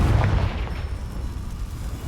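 Confringo fire spell explosion in Hogwarts Legacy, a deep muffled boom at the start that fades into a low, rumbling decay.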